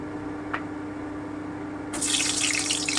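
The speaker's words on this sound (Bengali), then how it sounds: "এবারে আমি পটলগুলোকে ভেজে নিচ্ছি আমার তেল গরম হয়ে গেছে" Pointed gourd (potol) pieces hit hot oil for frying, and a loud, steady sizzle bursts in abruptly partway through, then carries on without a break and with no talking.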